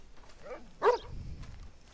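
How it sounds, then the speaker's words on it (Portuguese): Dog in Red Dead Redemption II, a single short bark close by, with faint whimpering noises around it. "Olha o cachorro aqui"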